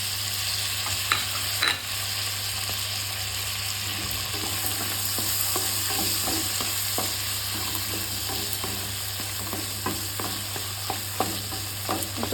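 Chopped tomatoes and green chilies fry with browned fish in a pan, giving a steady low sizzle with occasional stirring clicks and scrapes throughout, close and continuous with no talking.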